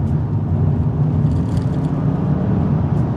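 Kia Stinger GTS heard on the move, a loud continuous low engine and road rumble with a slight whir, steady and close, without clear gear changes and with no talking over it.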